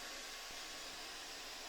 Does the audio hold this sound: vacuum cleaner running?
yes